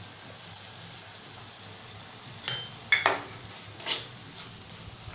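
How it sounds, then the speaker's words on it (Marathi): Capsicum and potato vegetable with tomato stirred in a pan, a spoon scraping and clinking against the metal in a few sharp knocks over a faint, steady background hiss. "मिक्स करूया टोमॅटो घालून घेऊया"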